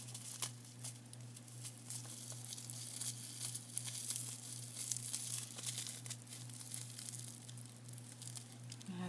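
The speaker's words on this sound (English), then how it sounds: "Oh, geez, I'm ripping it again." Paper mail is torn open with crinkling, tearing rustles that come in quiet, irregular bursts over a steady low hum.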